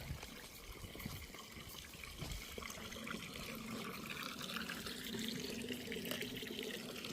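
Cold spring water gushes steadily from an outlet at an outdoor grotto shrine, a continuous splashing rush that stays even and fairly close throughout, with no talk over it.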